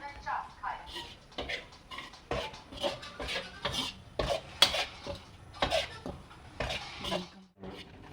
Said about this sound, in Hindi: बेसन भून लेती हूँ अच्छे से इसको मैं